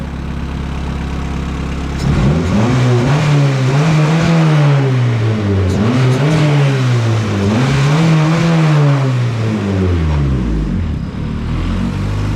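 A Honda CRX engine with a newly installed radiator idles, then is revved in repeated rising and falling pulls to bleed coolant bubbles, loud and close with a steady idle rumble underneath.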